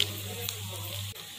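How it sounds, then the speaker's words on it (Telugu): Curry leaves crackle in hot oil as tempering for peanut chutney, a constant close hiss over a low steady hum. "కొంచెం కరివేపాకు వేసుకొని"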